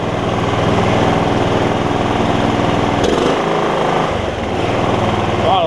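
A 9hp Kawasaki engine swapped into a John Deere RX75 riding mower runs loud and close with a steady, buzzing rumble that dips briefly in the middle.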